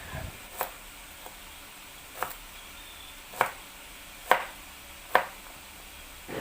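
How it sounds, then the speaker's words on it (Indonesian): A knife coarsely slices crushed garlic cloves on a board: about six sharp, separate cuts spaced roughly a second apart, quiet and close, with no talking. "Untuk bumbunya ini aku gunakan 2 siung bawang putih, digeprek dulu. Selanjutnya diiris kasar."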